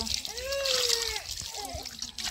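Pangas fish rinsed under water in a kitchen, with steady splashing and trickling running continuously at close range.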